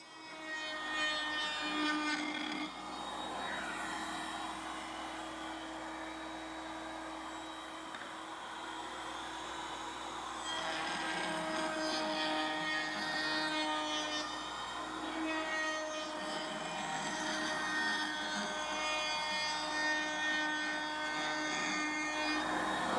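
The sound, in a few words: router cutting a hardwood dowel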